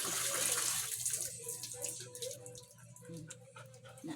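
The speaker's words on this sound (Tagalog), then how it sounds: "Napuno na ang tubig." Water runs from a tap into a tub for washing laundry, a steady close rush of pouring with a dog audible at times and faint clatter in the background.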